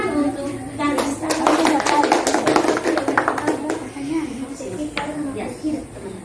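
Elementary schoolchildren in a classroom clapping for a classmate, a ragged burst of many small hands that builds and then tapers off, with children's voices chattering around it.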